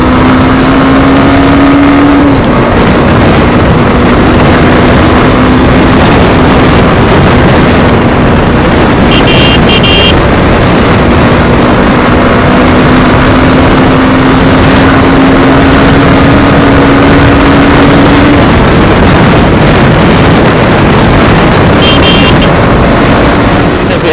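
A Kawasaki Ninja 300 motorcycle at full throttle gives a loud, continuous engine drone with the pitch rising and shifting through gears, heavily buffeted by wind noise throughout.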